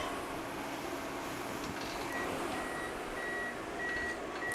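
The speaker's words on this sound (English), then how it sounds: "Oh, the timer went off." A kitchen timer goes off while tofu veggie bowls are being cooked, giving a string of evenly spaced, thin beeps over a steady hiss of kitchen background noise.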